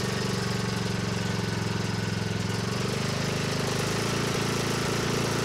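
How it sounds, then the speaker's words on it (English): A Cub Cadet XT1 riding lawn mower engine runs with a continuous, even, rumbling and pulsing drone close by, with no talk over it. "let me show you what this thing sounds like when we start it up."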